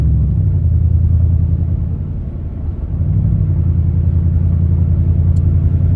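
Car interior road noise while driving slowly behind traffic, a steady loud low rumble of engine and tires with a brief dip in the middle, no talking.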